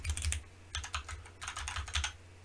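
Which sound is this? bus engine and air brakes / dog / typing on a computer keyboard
typing on a computer keyboard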